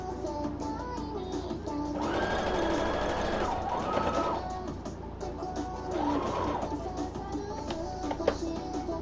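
A sewing machine stitches in bursts, its steady motor whir and needle chatter rising for a couple of seconds at a time and easing between runs, close by in a quiet room.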